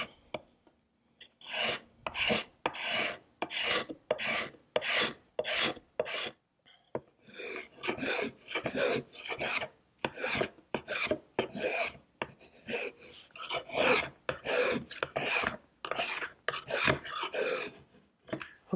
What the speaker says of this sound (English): I'm using the gooseneck because I want to create a little bevel right here.